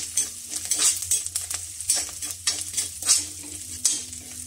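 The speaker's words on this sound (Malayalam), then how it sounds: "ഇനി നമ്മുടെ ചെറിയ ഉള്ളിയൊക്കെ നന്നായിട്ട് മൂത്ത് വന്നിട്ടുണ്ട്" Small onions (shallots) fry in a pan for a kovakka stir-fry, sputtering loudly and close while a spoon stirs them in repeated scraping bursts against the metal.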